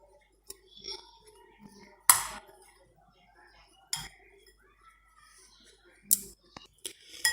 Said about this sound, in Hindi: अब सभी चीज़ों को यहाँ पे हम मिक्स कर लेंगे।